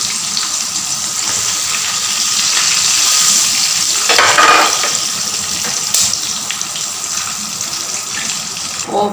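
Kembung mackerel frying in hot oil, a steady broad sizzle that holds for the whole stretch with a brief louder crackling burst midway, no voices.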